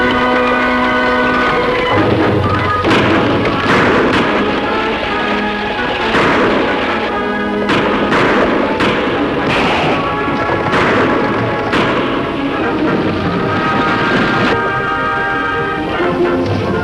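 Sharp gunshots crack out repeatedly over a busy, loud soundtrack of dramatic music and noise in an old Western radio drama about a stagecoach holdup.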